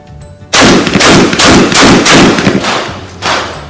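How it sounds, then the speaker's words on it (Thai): Five rapid shotgun blasts from a Remington 11-87, fired in quick succession at close range. Each loud report runs into the next, with a decaying tail after the final shot. "ลูก 70 นะครับ5นัด ยิงต่อเนื่องนะครับ แบบเร็วๆนะครับ"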